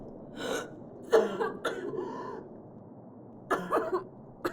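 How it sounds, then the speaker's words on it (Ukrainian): A few separate coughs close by, short harsh bursts spaced apart with quiet breaths between, no talking. "Сподіваюся, ти не заразишся від мене цим бридким кашлем"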